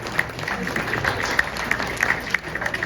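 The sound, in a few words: audience applause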